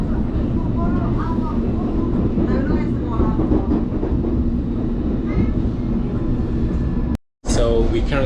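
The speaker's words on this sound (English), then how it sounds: "So we're currently on District Line. We're heading to South Kensington." London Underground District Line train riding toward South Kensington, a loud steady rumble and rattle heard from inside the carriage with faint voices and squeals over it, cutting briefly to silence near the end before resuming.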